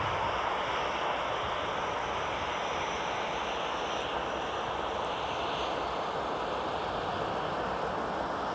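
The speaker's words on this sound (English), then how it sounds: "We've got Sun Country making their way on taxiway Whiskey in front of us" A Sun Country airliner taxis along a snowy taxiway at Minneapolis–Saint Paul, its engines giving a low, even, distant hum like wind with a faint high whine above, continuous and quiet without talk.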